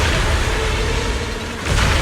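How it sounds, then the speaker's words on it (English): Loud, dense booming explosions in the video game Zenless Zone Zero roll continuously, a heavy rumbling barrage with a brief dip before another burst swells back up. "Move in during the gaps between explosions."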